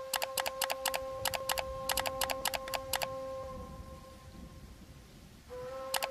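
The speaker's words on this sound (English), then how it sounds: "Open Google Chrome, type CapCut Video Upscaler." Keys clack on a computer keyboard as a search is typed into a web browser, a quick run of evenly spaced, crisp keystrokes with a short pause, close and fairly quiet, with no talking.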